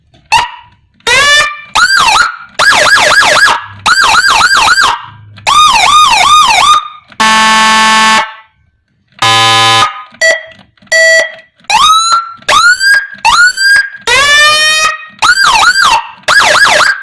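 Whelen G2 siren module cycles through its built-in tones through a 12-watt TOA speaker: loud, close bursts of rising and falling wails, yelps and steady horn blasts, separated by short silences.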